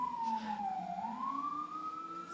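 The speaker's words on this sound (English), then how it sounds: "Special for you, special from Ambulance." An ambulance siren wails outside in a steady rising and falling tone. It sounds moderately distant and is heard alone, with no talking.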